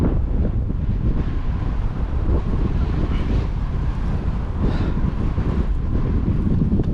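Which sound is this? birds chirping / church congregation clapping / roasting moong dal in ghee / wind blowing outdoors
wind blowing outdoors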